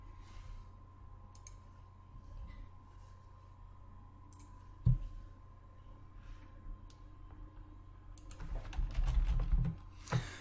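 Typing on a computer keyboard: faint, scattered key clicks tap at a quiet desk, then a quicker, denser flurry of keystrokes toward the end.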